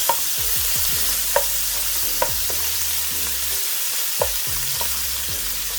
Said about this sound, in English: I'm going to add in my steak now